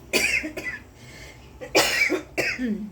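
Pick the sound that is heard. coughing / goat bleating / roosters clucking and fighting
coughing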